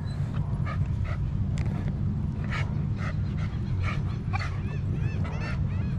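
French bulldogs at a dog beach yipping and whimpering in short repeated bursts over a constant loud low rumble of wind and surf.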